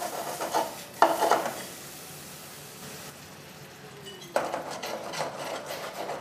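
Soft sizzling and bubbling from shallots simmering in cream in a pan, with a couple of louder scraping stirs near the start and again toward the end.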